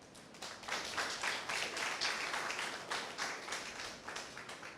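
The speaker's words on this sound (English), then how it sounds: "I think Volta region needs a round of applause for this." An audience at a Volta Region event applauds; the faint, somewhat distant clapping swells and then slowly tapers off, with no voices over it.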